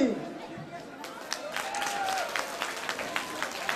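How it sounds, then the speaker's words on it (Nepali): Audience at a Magar Day and branch anniversary party in Plumstead claps in a scattered, modest burst of applause filling the hall, with crowd chatter and a voice heard through it. "एकछिन साइलेन्ट अनि सानो थपडी"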